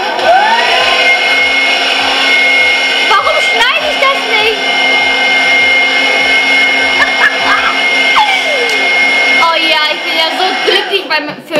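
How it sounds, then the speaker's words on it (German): A hair dryer blows hair dry in a steady, loud, close whir that runs the whole time, with a voice speaking over it. "dann trockne ich jetzt das Haar"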